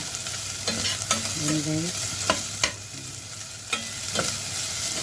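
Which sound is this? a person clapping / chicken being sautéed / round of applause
chicken being sautéed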